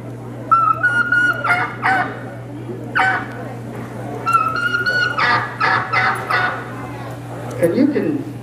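Mouth-call turkey yelps and clucks for fall turkey hunting in alternating bursts, a human imitation of two birds calling back and forth, close and fairly loud.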